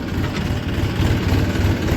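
A tractor engine pulling a loaded sugarcane trolley rumbles steadily and low, a continuous heavy drone with a faint rhythmic throb, close and loud, with no voices over it.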